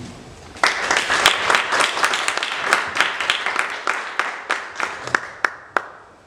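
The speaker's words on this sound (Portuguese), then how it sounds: "E acho que o João Pedro Azul merece uma salva de palmas por isso." Audience applause at a book collection presentation comes as a burst of distinct hand claps that starts suddenly and thins out over several seconds, leaving a few scattered claps near the end.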